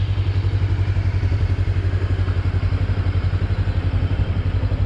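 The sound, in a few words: motorcycle engine running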